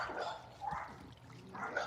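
Neighbors' dogs barking outdoors by a pond: two or three muffled, distant barks spaced apart against faint water trickle.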